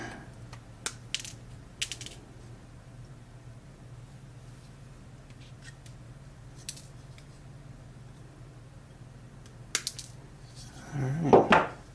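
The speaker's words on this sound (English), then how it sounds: "we're going to cut off the extra leads on here close to the board" Cutters snipping excess component leads close to a circuit board on a dinosaur kit, a few sharp isolated clicks spread out over quiet background, close up, ending with a louder rustle.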